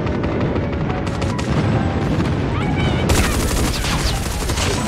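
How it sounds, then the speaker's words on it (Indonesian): Airstrike explosions and dense automatic gunfire in a shooting video game, a continuous loud barrage of rapid shots and booms, with a sharper burst of blasts near the end. "Kayaknya kita airstrike."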